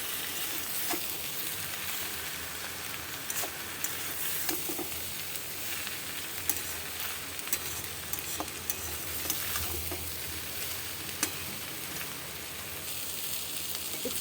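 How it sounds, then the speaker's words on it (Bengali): Raw papaya cooked with moong dal, sugar and grated coconut is stirred in a hot pan, giving a steady sizzle with repeated scraping strokes of a spoon, close and unbroken, with no voices. "চিনি, নারকেল কোড়া দিয়ে এবার ভালো করে সব মিশিয়ে দেবো।"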